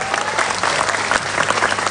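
Dense, steady applause from a live audience at a comedy roasting battle, many hands clapping continuously and loudly, with a faint crowd murmur underneath.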